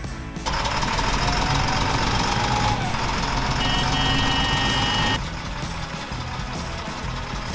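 A reversing garbage truck sounds steady warning beeps over a loud rumbling engine and broadband machine noise, close by, which cuts off abruptly partway through and leaves a quieter engine drone.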